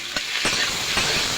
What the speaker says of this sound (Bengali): এবার তরকারিটা দিয়ে দেবো।